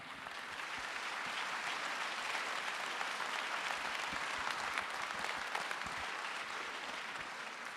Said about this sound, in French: Ça mérite aussi un applaudissement.